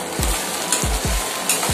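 Vegetables in a pan for bharwa bhindi masala, with potatoes and salt, sizzle steadily while a spoon scrapes through them in several quick stirring strokes at close range.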